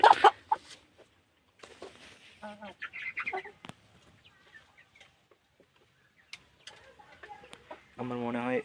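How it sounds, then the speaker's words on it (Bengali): Chickens and a rooster cluck in bursts, loudest at the start and end, with quieter stretches and some indistinct voices in between. "আমার মনে হয় এই কালো কালারের মুরগিটা মানে মোরগ, এটা কোনো অন্য জাতের"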